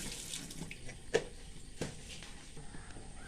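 Water trickles faintly and steadily into ginger chutney before grinding, with a couple of soft knocks in an otherwise quiet kitchen.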